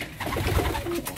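Homing pigeons, a long-distance Barcelona grizzle line, coo softly and steadily at close range, with continuous low throaty murmuring from several birds filling the whole moment.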